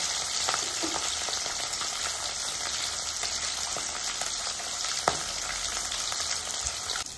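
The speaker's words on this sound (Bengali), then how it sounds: "মাছগুলো আমি লাল করে ভেজে নেব" Rohu fish pieces fry in hot oil with a steady, dense sizzle and crackle that stays loud and close throughout, broken by occasional sharper pops and spatters.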